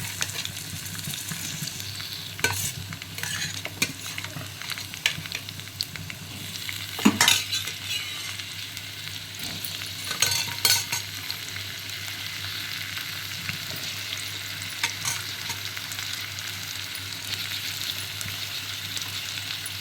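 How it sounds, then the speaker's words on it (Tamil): Onions and tomato fry in a pan for mushroom pepper masala, giving a steady, close sizzle with bursts of stirring and the occasional clink of a utensil against the pan. No one speaks. "இப்போ வெங்காயம் ஓரளவுக்கு பொன்னிறமாக வதங்கிடுச்சுங்க. இந்த ஸ்டேஜில் நம்ம தக்காளி போட்டுக்கலாம்."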